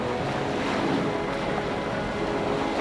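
A boat engine idling at sea off Tonga sits low and steady under rushing waves and heavy wind buffeting the microphone, a constant loud wash with no break.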